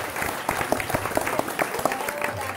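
Enthusiastic clapping from devotees at a religious gathering with food offerings, a dense, steady round of applause with distinct individual claps, fairly close and continuous.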